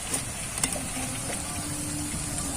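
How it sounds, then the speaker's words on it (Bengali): Potato and flour nasta snacks frying in hot oil, a steady close crackling sizzle with a few brief sharper pops, no voices. "উল্টে পাল্টে নাস্তাগুলোকে খাস্তা করে ভেজে নেব।"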